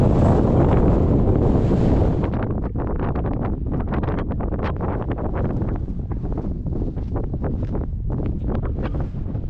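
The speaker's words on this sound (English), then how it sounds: "Wind's still blowing" Strong wind buffets the microphone on a high mountain pass in the Wind River Range while backpacking, a continuous loud roar with gusty rumbling throughout and no voices.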